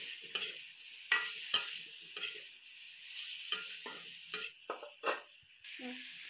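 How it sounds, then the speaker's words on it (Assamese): Pork pieces fry and sizzle in their own rendered fat, with a steady hiss broken by repeated scraping stirs of a spoon against the pan, close and moderately loud. "এতিয়া মাংসখিনিৰ পৰা লাহেকৈ তেল ওলাবলৈ আৰম্ভ কৰিছে।"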